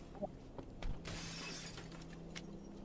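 Glass shatters in the horror video game Yan: Parasomnia: a bright crash with a short spill of tinkling fragments, followed by a few faint scattered clinks over a low background hum.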